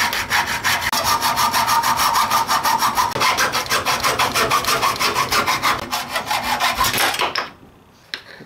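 A hacksaw cuts through a metal receiver drier from an automotive air conditioning system, giving a loud, steady run of rapid back-and-forth rasping strokes for about seven seconds before it stops abruptly.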